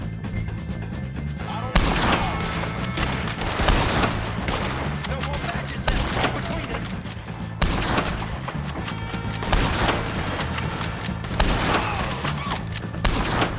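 Sustained gunfire in Red Dead Redemption 2 as O'Driscoll gang members are shot at: sharp shots and bursts crack in irregular clusters over a busy background, with faint voices mixed in.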